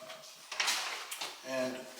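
A door swings closed inside a building under construction, giving a couple of brief, moderately loud thuds and clicks in a reverberant interior with background hum.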